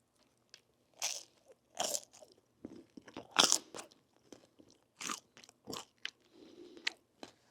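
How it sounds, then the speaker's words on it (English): Crunchy pizza from Taiwan is bitten and chewed close to the microphone, a run of sharp crisp crunches in irregular bursts separated by brief quiet gaps. "I hope you can hear that crunch."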